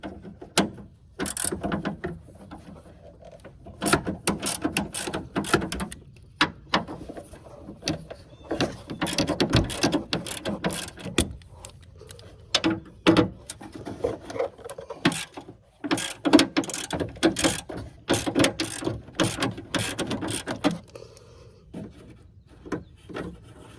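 A ratchet clicks repeatedly while removing 10 mm bolts from the A/C condenser of a 2015 Chevy Tahoe, with bursts of rapid close-up ratcheting broken by short pauses and small metallic handling noises.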